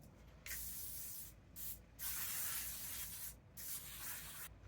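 L'Oreal Infallible 3-second setting mist sprayed onto a face in a few short hissing bursts of uneven length, close and fairly quiet, with brief gaps between pumps and no talking.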